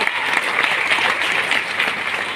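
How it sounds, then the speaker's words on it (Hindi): Audience applause at a speech, dense steady clapping from a large crowd, continuous and fairly loud for the whole stretch. "उसके ऊपर ताली मारे ना, उसके ऊपर ताली बजा की है।"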